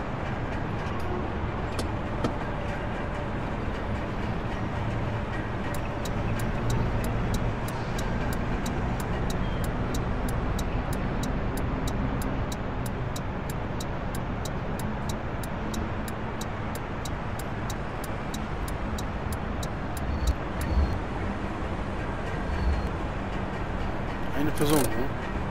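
Steady engine rumble of a bus rolling slowly at night in Bus Driver Simulator 18, continuous and even, with a regular ticking indicator and occasional clunks.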